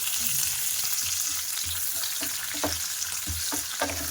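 Chopped onions fry in hot oil for a chicken masala fry, a steady close sizzle broken by several short scraping stirs of a spatula against the pan, with no talking.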